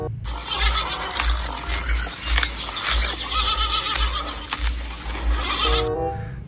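A horse in the video game Jurassic World Evolution 2 neighs and whinnies over a dense bed of game sound and music, ending in a clear, vibrating whinny near the close.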